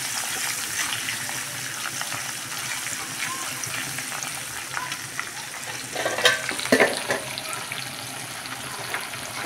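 Washed dried fish fries in a pan, giving a steady, moderately loud sizzle throughout with a few stirring scrapes and clinks near the end.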